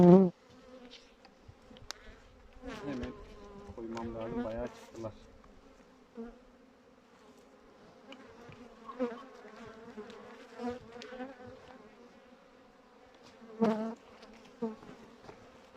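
Bees hum and buzz around up close, their droning pitch rising and fading as they pass, with a soft voice briefly audible.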